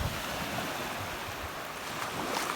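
Continuous wash of surf rolling onto an empty beach, a steady moderate rush of waves with slight swells in loudness and nobody talking.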